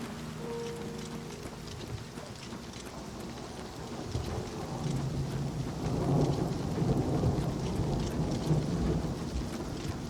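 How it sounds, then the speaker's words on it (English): In the game Oblivion Remastered, a thunderstorm brings steady rain that swells louder partway through, joined by deep rolling thunder rumbling in the low range. "It was fairly sunny, and then just within moments, the rain started falling."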